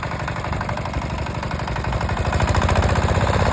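An eight-horsepower water-cooled walk-behind tractor with a rotary tiller chugs steadily at close range with a rapid clattering pulse, growing louder toward the end.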